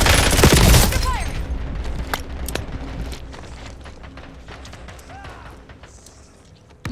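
Rapid bursts of gunfire in the Warzone video game, loud at the start with heavy firing, then scattered shots and game sound effects continuing at lower level, with a brief voice line heard faintly.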